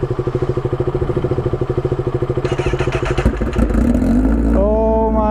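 Honda CBR1000RR Repsol Edition motorcycle engine at a rhythmic, lumpy idle close by, then revving up into a loud rising roar before settling back with a whining tone.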